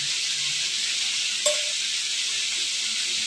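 Macaroni being stirred into mushroom soup in a pot on a home stove, a steady soft sizzle and hiss throughout with one brief clink of a utensil against the pot midway.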